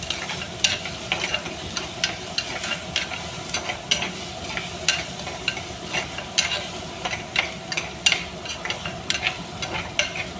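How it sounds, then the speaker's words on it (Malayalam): Onion and tomato sautéing in a pan with turmeric for a prawn theeyal: a steady sizzle runs throughout, punctuated by frequent sharp clicks and scrapes from a spoon stirring, with no talking. "ഉള്ളിയും തക്കാളിയൊക്കെ നല്ലപോലെ വഴണ്ട് വന്ന് കഴിയും"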